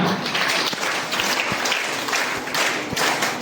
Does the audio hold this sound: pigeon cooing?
no